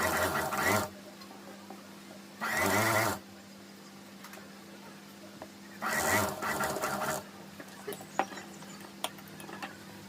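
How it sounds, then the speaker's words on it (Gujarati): A sewing machine runs in three separate stitching bursts while sewing the edge seam of a shirt, each burst a close, steady mechanical whir separated by quiet pauses. "હવે મિત્રો આપણે અહીંયા ધારીની સિલાઈ મારી દઈએ."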